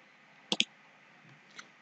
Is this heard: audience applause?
no